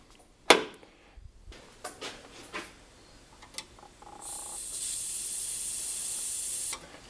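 R12 refrigerant escapes from the Schrader valve of an old air-conditioning system on a 1989 Ford F-150. A few clicks and taps come first, then a steady, close hiss runs for about two and a half seconds and cuts off, with no speech.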